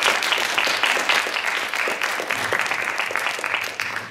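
A theatre audience at a regional youth theatre and vocal festival applauds after a group's performance of a play, loud and sustained clapping from many hands, dense and continuous throughout.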